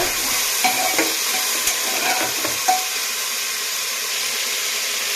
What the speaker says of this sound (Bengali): ডিটাকে আমি ভালো করে কষাতে থাকবো এইভাবে ভালো করে কষিয়ে নেব